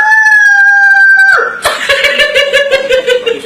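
A voice imitates a rooster crowing, holding a long strained note that breaks off into laughter.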